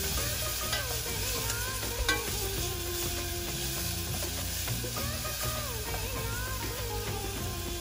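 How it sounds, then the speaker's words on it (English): Sliced shallots sizzle steadily as they sauté in a pan, a continuous frying hiss with occasional stirring noises throughout. "And I'm gonna saute these until they are soft and translucent,"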